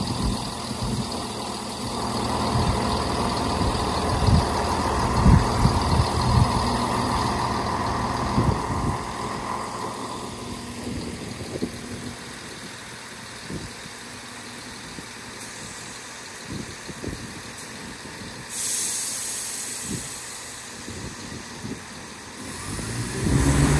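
Train passing through Kirkcaldy railway station, a loud rumbling engine drone with rising and falling tones and scattered clanks and thumps, later easing into a quieter hum with some higher hiss.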